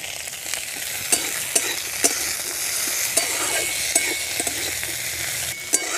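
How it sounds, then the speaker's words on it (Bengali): Chopped tomato and green chili stir-fried with cooked vegetables for spicy pasta crackle in a pan, with a steady sizzle broken by sharp, regular spatula scrapes and clicks. "সবজিটা সেদ্ধ হয়ে গেছে, এখন দিয়ে দিচ্ছি টমেটো কুচি আর লঙ্কা কুচি।"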